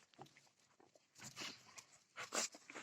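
Among several dogs, one gives a low, faint growl in intermittent rough bursts with snuffling noises, quiet and somewhat distant, with no talking over it.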